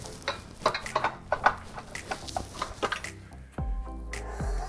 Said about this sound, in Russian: Отправляем все это дело в миксер.